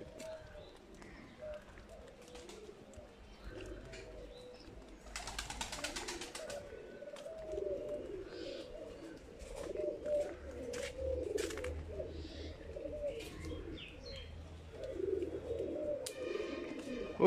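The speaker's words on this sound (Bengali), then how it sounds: "ও সুন্দর সুন্দর কবুতর।" Pigeons cooing in an open outdoor setting in Khulna, soft and low, repeating through the scene beneath people talking nearby, with brief brighter bird calls above.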